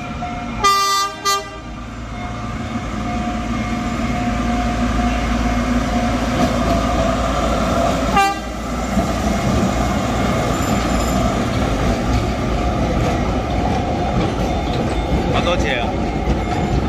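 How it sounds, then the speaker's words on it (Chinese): A century-old narrow-gauge sugar-cane train at the Huwei sugar factory rumbles along steadily, with a short horn toot near the start and another around eight seconds, while a few voices talk over the running noise. "虎尾小火车"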